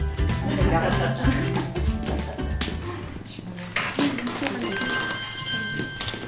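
Mobile phone ringing in a theatre during a live festival stage performance, a steady electronic ring with sustained tones entering partway through, heard over loud stage voices and background sound.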